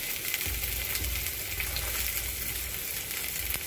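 Green chilies sauté in a pan for a tomato gotsu, giving a steady, close sizzle with fine crackling throughout and no voices.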